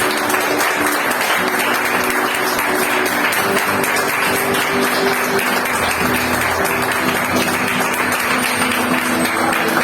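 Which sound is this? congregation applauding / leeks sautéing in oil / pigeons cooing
congregation applauding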